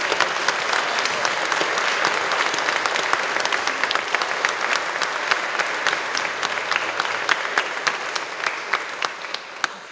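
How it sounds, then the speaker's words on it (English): Sustained, full audience applause at a bunad folk costume style show in Stoughton, a dense hall of many hands clapping steadily for about ten seconds, loud and even with no break. "So let's give them all a really warm round of applause."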